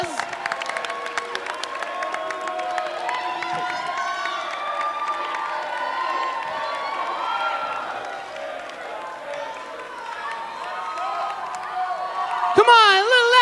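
At a school pageant show, a crowd cheers and shouts with applause mixed in, many overlapping voices whooping and yelling continuously, with a sharp spike of shouting near the end.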